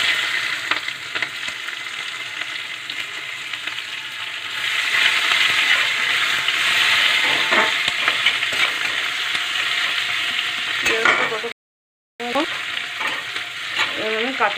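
Chopped onions hit hot oil tempered with whole cumin in a pan for a pumpkin-and-potato fish head curry. Loud continuous sizzling and crackling follow, with occasional stirring scrapes and a brief dropout near the end.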